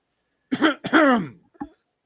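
A voice imitates a menacing cough: two rough, throaty barks followed by a short grunt, close and fairly loud against silence.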